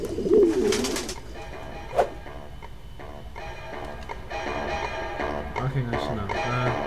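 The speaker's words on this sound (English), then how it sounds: "Another pigeon. We need another pigeon." Pigeon cooing in the video game Jazzpunk, a low warbling coo near the start, then a sharp tick and scattered game sounds and music running underneath.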